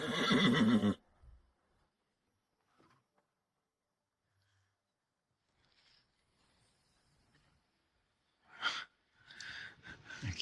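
A horse neighs loudly in a burst at the start while being washed, followed by a long near-silent stretch with faint shuffles, then more whinnying, wheezy breathing and snorts toward the end.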